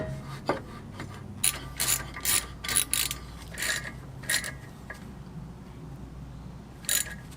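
Quick ratchet clicks in short bursts as a small bolt is snugged down on a Sprinter van brake job, close up and moderately loud, with pauses between strokes and no talking.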